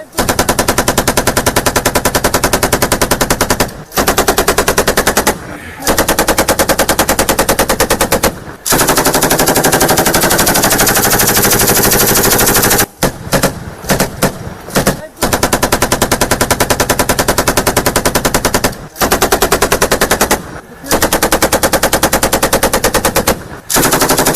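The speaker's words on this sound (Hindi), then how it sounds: "एक तरफ से फायरिंग हो रही है, दूसरी तरफ से काउंटर फायरिंग हो रही है।" Sustained automatic gunfire from a firefight between the Afghan army and Taliban near the Uzbekistan border in Balkh province, loud, dense bursts running almost continuously with brief pauses and a stretch of scattered rapid shots.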